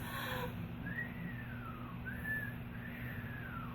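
A voice imitates the wheezing, whistling breath of obstructive lung disease with thin, rising-and-falling whistles, three drawn-out tones over a steady low hum, close and fairly quiet.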